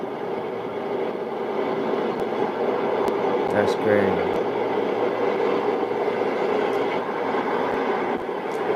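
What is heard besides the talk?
train passing by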